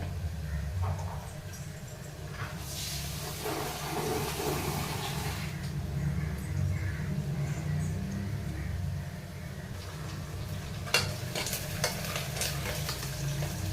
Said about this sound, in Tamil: வெங்காயம் கொஞ்சம் நல்லா வதங்கிருச்சு வெங்காயம் நல்லா வதங்கிருச்சு பாருங்கள்